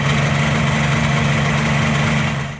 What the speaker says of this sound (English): they could hear a rattling sound from the engine